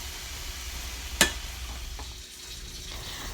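Vegetables frying in a pan, a low soft sizzle running throughout with one sharp clink of a utensil partway through, close and quiet with no talking.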